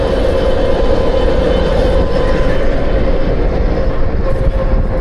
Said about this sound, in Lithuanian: Keičia lokomotyvą į kitą pusę. Iš elektrinio dabar prikabino šilumvežį.